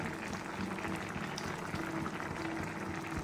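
Red lentil dal with jute leaves simmers on low heat in a pot, giving a steady, close bubbling and burbling that runs unbroken throughout with no talk.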